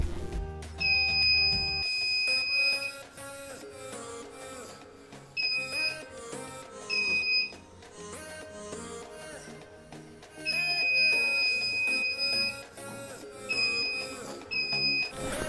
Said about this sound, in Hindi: ये जो बज़र है वो 1 मीटर पहले ही इसका बज़र बजने लग जाता है